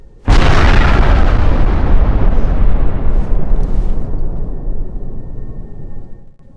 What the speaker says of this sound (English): yeah, that was a missile delivering a gas cloud for us